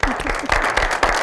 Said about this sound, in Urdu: بہت ساری تالیاں جی